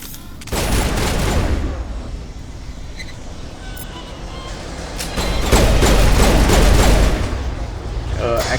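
Gunfire from a pistol in the Mass Effect 1 Legendary Edition video game, heard as a dense, loud run of shots that fades through the middle and then rises again into a heavier burst near the end.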